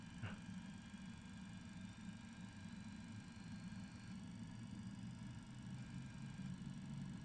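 MD-82 jet engines at takeoff thrust, a steady, faint droning roar with a low rumble and whining tones heard from inside the aircraft.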